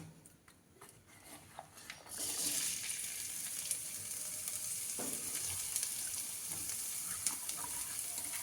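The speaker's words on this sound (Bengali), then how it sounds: "পেঁয়াজ কুচিটাকে একটু ভেজে নেব" Chopped onions frying in oil for a Bengali flat bean and egg fry, with a quiet start giving way at about two seconds to a loud, steady sizzle that carries on to the end with a few small pops.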